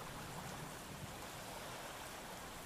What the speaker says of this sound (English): water is falling from the sky